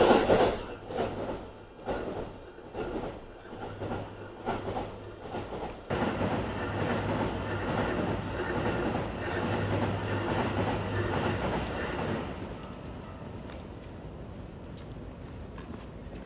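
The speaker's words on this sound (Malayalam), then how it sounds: "ട്രെയിൻ വരുന്നത് കാണാം ട്രെയിൻ പോകുന്നുണ്ട്" A train rolls past a railway crossing in Japan with rhythmic clickety-clack of wheels over rail joints, followed by a sustained rumble that gradually fades away.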